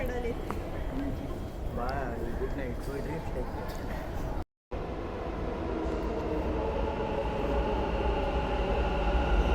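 A metro train pulls in at a station on the Bengaluru line between Sampigepura and Majestic, giving a continuous rumbling roar that grows steadily louder, with a brief dropout midway and people's voices in the background.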